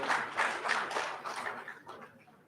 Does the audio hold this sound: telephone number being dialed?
no